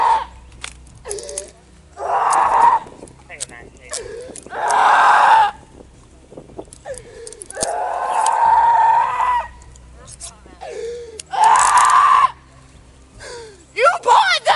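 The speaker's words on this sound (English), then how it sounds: "Stop screaming!" A woman screams repeatedly during a police arrest, loud shrill bursts of several seconds each separated by short pauses, with other voices speaking in between.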